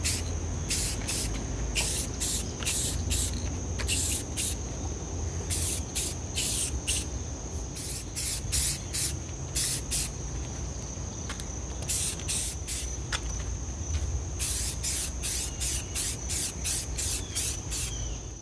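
Short and long bursts of an aerosol spray can coat a lamp bonnet green, hissing in irregular pulses close by over a low background rumble.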